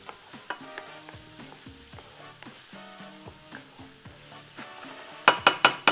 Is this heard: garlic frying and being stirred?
yes